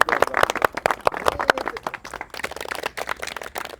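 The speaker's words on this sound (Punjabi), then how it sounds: "ਆ ਜਾਓ ਜੀ ਹੁਣ ਪ੍ਰੋਗਰਾਮ ਤਾੜੀ ਲਾ ਦਿਓ ਜੀ।" An audience at a live evening stage show breaks into applause, a dense run of many hands clapping at once, fairly close and steady for a few seconds with no talk over it.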